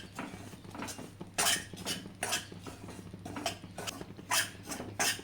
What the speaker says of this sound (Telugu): ఇప్పుడు మనం ఇదే నెయ్యిలో మనం రస్కుల పొడి అయితే వేసేసుకుందాం.